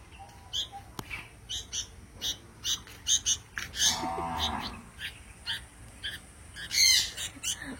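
A young bird squawks in short, repeated bursts while being hand-fed dragon fruit, the harsh calls close and loud, coming in uneven clusters with brief pauses between them.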